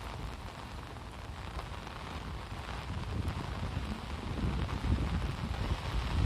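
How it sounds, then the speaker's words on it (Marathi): Heavy monsoon rain pours down over a village, a steady broadband hiss of downpour that swells louder toward the end, with no voices over it. "अजून भरपूर पाऊस चाललेला आहे बघा."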